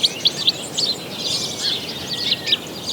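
Finches and starlings chirp in a steady chorus of sharp, high tweets and short calls, moderately close and continuous with no talking.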